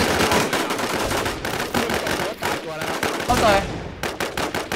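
Gunfire in the video game Infestation comes in dense, rapid automatic bursts, loud and close, with a brief shout of speech among the shots.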